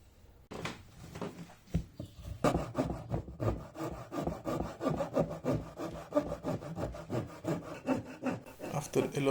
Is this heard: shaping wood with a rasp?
yes